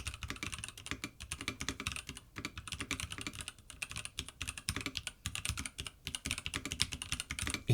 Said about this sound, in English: the typing test